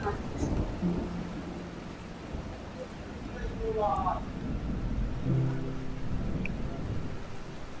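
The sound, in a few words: rain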